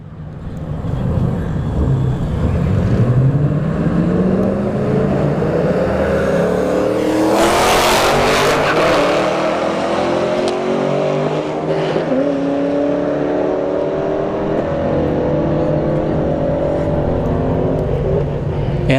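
A Golf GTI and a Camaro SS launch side by side down a drag strip, engines roaring loud and rising through repeated gear shifts, with a sharp crackle mid-run as the cars pull away.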